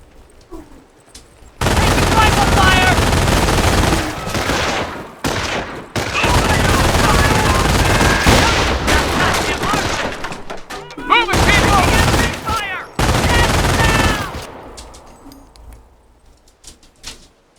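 Machine gun fire in the World War II strategy game Company of Heroes: several long, loud bursts of rapid automatic fire separated by short gaps, close and dense.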